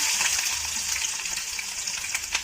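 Cloves, cumin and onion fry in sesame oil in a pan, making a loud, dense, continuous sizzle with light stirring.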